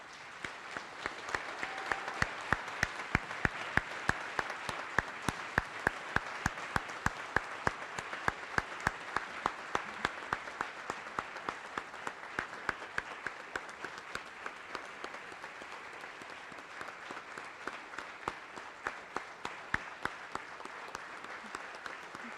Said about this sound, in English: Ladies and gentlemen, please join me in a round of applause in congratulating Command Sergeant Major retired Thorpe-Noel, Mr. Noel, and their family.